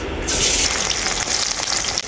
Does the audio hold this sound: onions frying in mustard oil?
yes